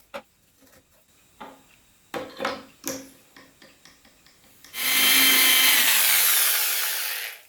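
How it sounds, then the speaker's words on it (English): A 35mm Forstner bit bores a hinge cup hole into a cabinet door, with a sustained, loud whirring cut near the end after several sharp wooden knocks and clicks. "So make sure you don't drill all the way down, because you will make a hole."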